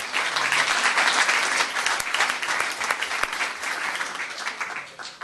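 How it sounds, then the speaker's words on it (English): Town council meeting audience gives a sustained round of applause, dense steady clapping from a room of people at moderate loudness, tapering slightly near the end. "Let's give a round of applause."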